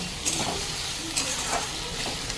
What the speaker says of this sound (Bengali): এবার এই মাছটা একবার নেড়ে দেব।